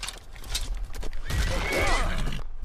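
A horse in the fantasy video game Skyrim whinnies amid busy in-game noise and hoof clatter, a rising and falling call standing out over a dense, loud backdrop.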